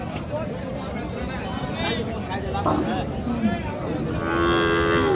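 Sahiwal cows and calves moo at the Raniganj cattle market in Dinajpur. A long, drawn-out low moo rises near the end, with steady crowd chatter and people talking close by throughout.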